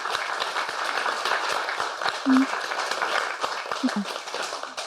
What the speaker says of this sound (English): So will we give Chris a clap for that?